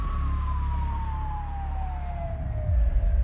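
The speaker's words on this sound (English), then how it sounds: "A few minutes later, Lauren was loaded into the back of an ambulance, headed for the Cleveland clinic" An ambulance siren wails steadily as one long descending tone over a loud, continuous rumble of the vehicle, close and dominant throughout with no speech.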